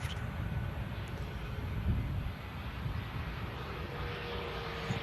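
Airbus A320neo jet at Manchester Airport, its engine roar a steady, broad rumble held throughout with wind buffeting the microphone.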